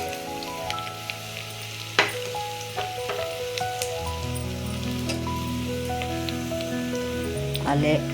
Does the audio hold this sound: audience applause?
no